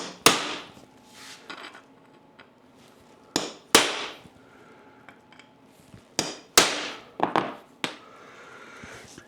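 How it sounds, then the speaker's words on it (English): A hammer strikes a steel center punch on metal to deepen drilling divots, giving about ten sharp, loud metallic taps in irregular clusters with quiet pauses between them. "I will probably punch them one more time just to give myself a bigger divot"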